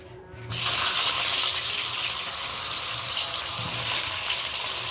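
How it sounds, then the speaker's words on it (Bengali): Pointed gourds (potol), rubbed with salt, drop into hot oil and set off a loud, steady frying hiss that begins abruptly after a brief quiet moment and then holds close and unbroken, with no voices. "এবার আমি তেলটা গরম হয়ে গেছে পটলগুলো ভেজে নেব"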